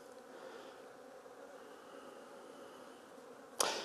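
Winter honeybees hum at an opened hive with a hoverfly among them, a soft, steady drone close by, ending in a sharp knock or click.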